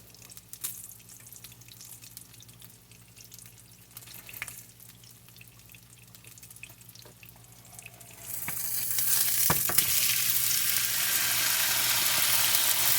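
Steaks fry in hot beef tallow, a steady crackling hiss that swells markedly louder and brighter partway through and then holds as a dense, close sizzle with no voices.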